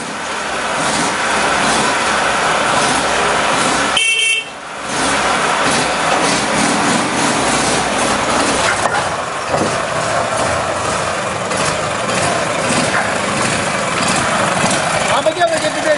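A trail motorcycle engine running close by, a steady mid-pitched drone with a brief dip partway through and small rev changes, with someone talking over it.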